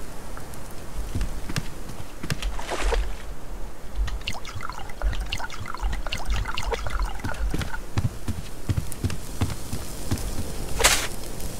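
Water is poured and trickles in the survival game Subsistence, an uneven splashing dribble that continues throughout at moderate loudness, with scattered sharper splashes and knocks.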